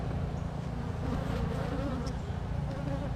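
Honey bees buzz at a queenless hive overrun by hive beetles, a dense, steady drone of many wings held close and even throughout, with no voices.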